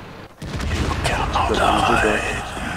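A tank gun fires in a World of Tanks–style battle with the T-43, a loud booming shot followed by a rumbling, ringing tail, with voices talking alongside.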